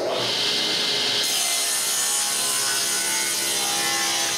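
A saw cutting a piece of firewood square, a continuous rasping, rubbing rhythm of close, loud strokes through the wood.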